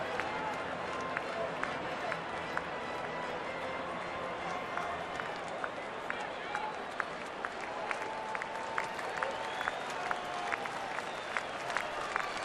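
A big crowd at a Milwaukee baseball game roars in a loud, sustained cheer after a foul tip, with a broadcaster talking over the dense, steady wash of noise.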